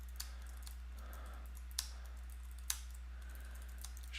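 Keys on a computer keyboard are tapped into a web-page text box, a few sparse, faint clicks spaced out over a low steady electrical hum.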